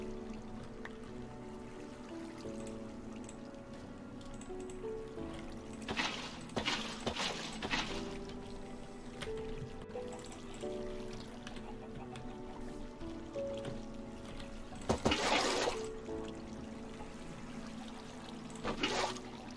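Flowing water from an infinite water source in Minecraft: a steady, soft pouring trickle with game background sounds and a few louder splashy bursts.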